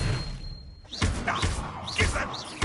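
Confringo fire spell cast in the Hogwarts Legacy video game, a sharp thud-like blast followed by further whooshing impacts from rapid spellcasting, loud and close.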